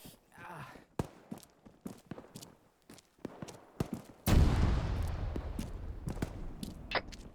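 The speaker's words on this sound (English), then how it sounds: "That sounds like an explosion on the northeast corner." During video game gunfire, a series of sharp shots and cracks leads to a heavy explosion with a deep rumbling roar that lingers, with sporadic hits continuing over it.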